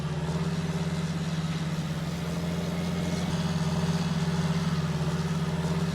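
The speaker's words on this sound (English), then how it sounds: "So we got our John Deere 8130 here with the Great Plains" A John Deere 8130 tractor pulling a Great Plains seed drill in Farming Simulator 19 drones with a steady low engine hum at constant revs throughout, no voices over it.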